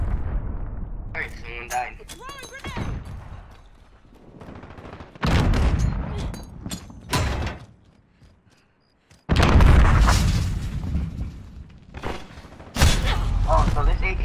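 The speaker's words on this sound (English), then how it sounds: "Enemy cruise missile, take cover!" Cruise missile strike in Call of Duty Modern Warfare beta: heavy explosive blasts and bursts of gunfire arrive in loud surges separated by quieter gaps, with players talking over the battle.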